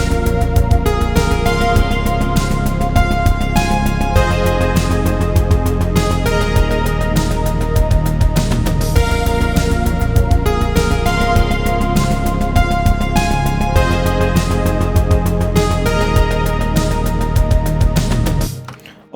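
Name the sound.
synthwave drum beat programmed in FL Studio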